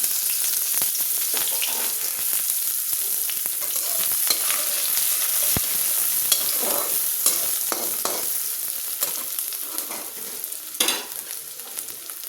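Onions frying in a generous amount of oil in a pan, a steady loud sizzle running throughout with scattered stirring scrapes and crackles, no talking.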